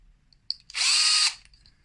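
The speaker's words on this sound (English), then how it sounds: "Again, adding some screws now." A power drill drives screws into a 45° kinematic mirror holder in one short, steady whir of about half a second, preceded by a small click and alone in a quiet room.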